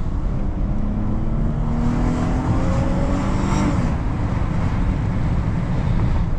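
A 2014 Dodge Challenger 3.6 V6 engine roars loudly up close, its pitch climbing as it accelerates, with steady road noise throughout.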